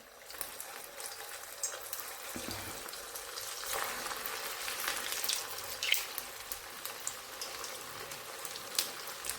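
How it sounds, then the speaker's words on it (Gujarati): Semolina cheese bites deep-frying in hot oil give a steady crackling sizzle, continuous and fairly close, with occasional brighter pops and bubbling throughout. "હવે આપણે સોજી બાઈટ એની અંદર તળી લઈશું."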